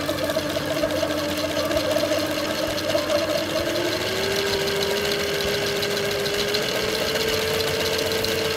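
An HD140 Linewinder machine spools line onto a spinning reel with a steady mechanical whir and an even motor hum whose pitch shifts slightly partway through, close and continuous, with no talking.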